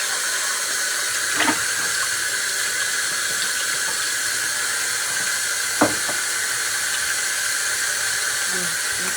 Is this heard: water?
yes